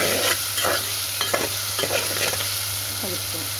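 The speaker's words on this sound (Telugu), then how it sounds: "బాగా వేగిన జింజర్ గార్లిక్ పేస్ట్ వేసాం కదా" Well-fried ginger garlic paste sizzles in oil in a pan as it is stirred, giving a close, continuous frying hiss broken by brief spoon scrapes.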